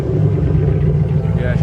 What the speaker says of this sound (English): let's give it a rev real quick